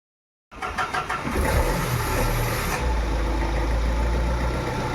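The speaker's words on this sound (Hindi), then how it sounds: "इन्होंने इंजन स्टार्ट किया है।" A Tata Safari Dicor diesel engine, just overhauled with a replaced turbo, cranks and catches, then settles into a steady, loud, close idle that carries on alone.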